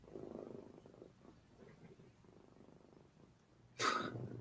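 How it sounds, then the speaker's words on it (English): A cat purrs softly and steadily as a low, faint rumble that keeps going, then a brief louder burst of noise breaks in near the end. "Can you hear the cat purring?"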